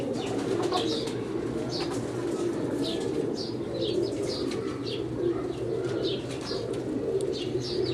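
Teddy pigeons keep up a continuous low cooing murmur, dense and steady, with scattered brighter chirps and faint wing flutters throughout.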